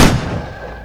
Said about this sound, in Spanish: Un disparo sonó